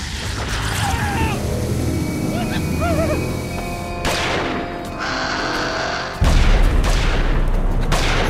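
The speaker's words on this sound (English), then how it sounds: "Shooting." Gunfire in a Jurassic Park video game: a few heavy booming shots at moderate distance, the loudest burst near the end, set against a steady rumbling backdrop with faint chirping creature calls early on.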